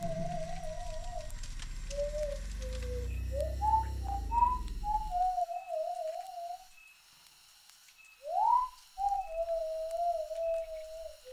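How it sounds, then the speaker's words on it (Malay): Eerie whistling: a lone wavering, trilling tone slides up and down over a low droning bed that cuts out midway, then the whistle continues alone, faint and hollow, with a brief rising swoop. "kami terdengar seseorang bersiul dari arah belakang."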